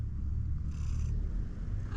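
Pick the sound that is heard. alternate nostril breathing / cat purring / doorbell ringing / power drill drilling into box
cat purring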